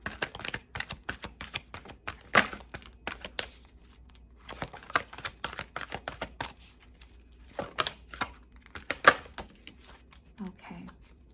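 Tarot cards are shuffled and pulled from a deck in quick papery flicks and snaps, clustered in irregular bursts with pauses between, close and fairly quiet.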